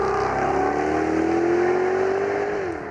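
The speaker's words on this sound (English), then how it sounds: "what you can probably hear is a less restrictive exhaust" A Jaguar XKR-S with a less restrictive exhaust and a freer-revving top end, its engine revving up in one loud, steady rising pull close by, easing off right at the end, with no talk.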